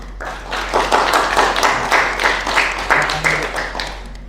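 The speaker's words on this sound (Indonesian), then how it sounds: "Beri aplaus untuk kelompok 4" A classroom group claps for a presenting group, a few seconds of brisk, fairly close applause from a modest number of hands.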